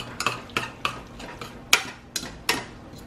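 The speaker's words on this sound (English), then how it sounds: "I'll finish mixing this up." Utensil stirring and mixing a pot of dinner, likely mac and cheese, in a home kitchen: about eight distinct scraping clinks spaced irregularly, close and clear with no talking.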